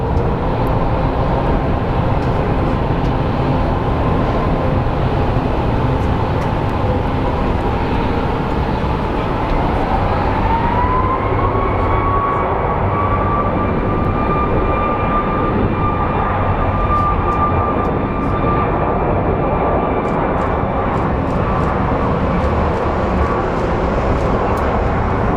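An American Airlines Boeing 737 MAX at Phoenix Sky Harbor airport gives a loud, continuous jet engine roar, its whining tone rising in pitch partway through as the aircraft powers up, heard without speech.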